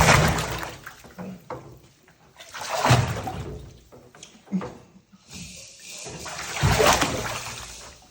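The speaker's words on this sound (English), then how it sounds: "Are you splish splashing, Rooster?" A spider monkey splashes water at bath time, giving repeated bursts of splashing and dribbling at close range, with quieter trickles in between and a faint voice at times.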